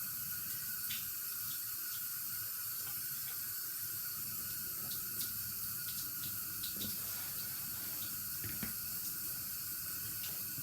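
Steady hiss of tap water running while rinsing slurry off a Japanese sharpening stone in a sink, a continuous even flow with occasional splashes, fairly close and unbroken.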